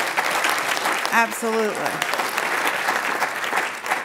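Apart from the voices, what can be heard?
round of applause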